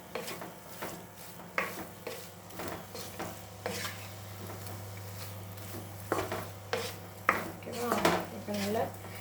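Soya chunks being stirred into masala in a pan, faint clinks and scrapes of a spoon against metal over a low sizzle, irregular strokes at close range.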